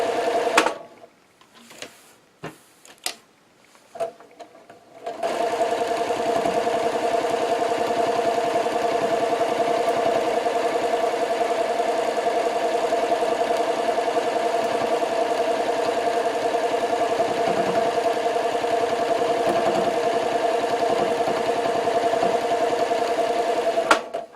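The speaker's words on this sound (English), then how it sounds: "and continue sewing" Sewing machine stitching a fabric placemat, a steady whirring drone running continuously after a few brief starts, close and fairly loud.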